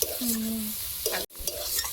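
Drumstick-leaf greens fry in a pan with a steady close sizzle while a utensil stirs and scrapes them, with a brief dropout near the middle before the frying noise resumes.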